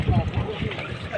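Strong wind buffets a large fishing boat out at sea, a steady low roar of gusts against the microphone with people talking over it.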